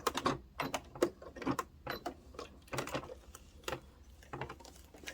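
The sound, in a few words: sewing machine stitching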